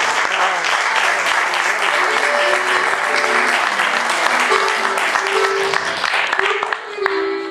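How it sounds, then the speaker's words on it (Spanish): Warm, continuous audience applause at a small live folk music performance, loud and steady throughout, with some instrument tuning notes poking through near the end. "capaz que con un aplauso logramos un tema más"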